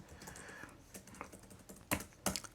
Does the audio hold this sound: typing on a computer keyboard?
yes